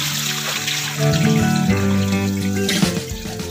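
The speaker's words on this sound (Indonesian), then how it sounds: "Selanjutnya pepaya kita cuci dan kita bilas sampai bersih, lalu ditiriskan." Papaya is washed and rinsed in water for making fried papaya chips, giving a steady, close running and splashing wash with a tonal hum beneath it and no talking.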